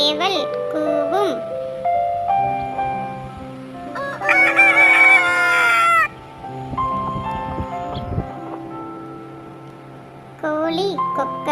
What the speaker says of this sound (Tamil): சேவல் கூவும்.